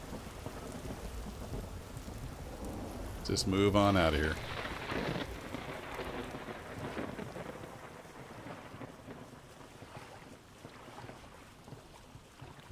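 Rainy thunderstorm in the video game Vintage Story, heard while rafting: steady rain hiss with a loud rumbling thunder burst near the start that fades into continued rain, and someone speaking briefly over it.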